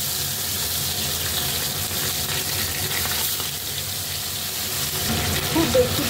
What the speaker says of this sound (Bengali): তেলটা গরম হয়ে গেছে, এবার আমি মাছগুলো এক এক করে ভেজে নেব।